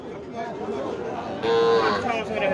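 Young bull calves at Chowbaria cattle market in Manda, Naogaon, moo loudly and nearby amid a busy crowd, with people talking underneath and a longer, stronger call near the end.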